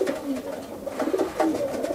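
A racing pigeon coos in a loft in Atlanta, Georgia, a few soft, low, rolling coos repeated close by with short pauses between them.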